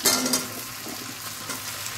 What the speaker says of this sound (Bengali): সবজির সঙ্গে মাছের মাথার সঙ্গে 5 মিনিট মতো কষে নেবো